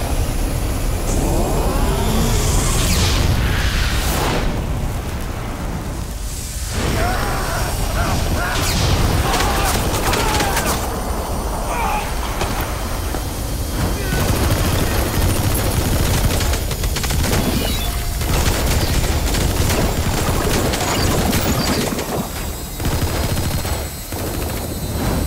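Relentless gunfire and explosions in Metal Gear Solid V: The Phantom Pain, a dense, loud wall of machine-gun bursts, crashes and rumbling blasts that never lets up, with no voices on top.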